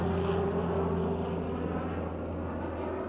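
An airplane passes overhead along a camp road near the Grand Canyon, giving a steady low rumbling drone that holds at a fairly even level throughout, with no talking.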